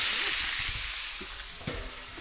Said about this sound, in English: So we're cooking what we call camp biscuits, just on a griddle.